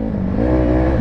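Suzuki DRZ supermoto engine revving hard while riding off-road through sand, a loud, steady, close droning tone that rises slightly in pitch with no talk.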